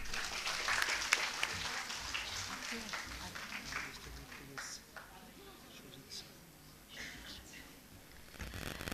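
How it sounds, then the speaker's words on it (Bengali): Scattered applause from an awards ceremony audience as a company representative is called to the stage, fairly faint and distant beneath a presenter's amplified voice. "জোরে একটা করতালি"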